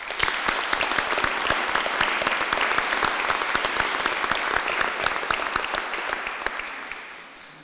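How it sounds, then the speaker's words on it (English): A graduation ceremony audience breaks into sustained applause for friends and families, steady dense clapping that fades out near the end. "please join me in giving a round of applause and a big thank you to your friends and your"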